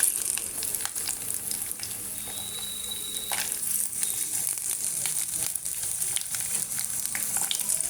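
Oil sizzles and crackles steadily in a pan as coconut pieces fry in tempering oil with popping mustard seeds, with soft pops throughout and a faint voice now and then.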